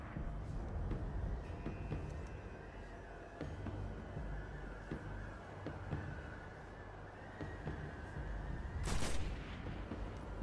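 Game sniper rifle fire from Destiny during a Taken Vex boss fight, with scattered sharp reports over a dense rumbling battle bed and one loud burst near the end.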